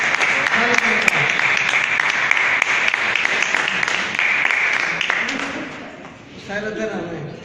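Audience applause for Khalid Parkash at a poetry evening, sustained crowd clapping that swells and then thins toward the end, with voices murmuring underneath.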